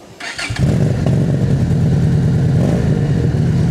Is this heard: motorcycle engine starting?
yes